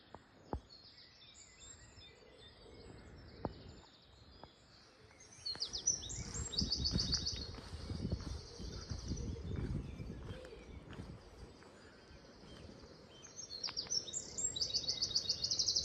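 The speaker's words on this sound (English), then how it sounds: "A couple of wrens having a punch up." Small wrens squabbling along an Isle of Wight coastal path near a landslip, giving bursts of high, rapid chattering calls that grow more frequent after the first few seconds over steady outdoor background noise, with a few sharp clicks.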